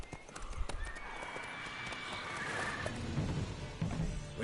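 Roach, the horse in The Witcher 3: Wild Hunt, gallops with rapid clip-clopping hooves and lets out a drawn-out whinny partway through, close and moderately loud over game ambience.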